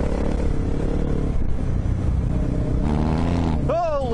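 A Yamaha Ténéré motorcycle rides close by on a rural paddock track, its engine droning steadily with a rising pitch toward the end. Voices talk over the engine.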